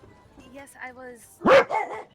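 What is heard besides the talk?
dog barking sound effect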